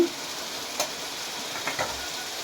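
Masala being sautéed in a pan for a hilsa fish curry, a low continuous sizzle with a few faint scrapes of stirring.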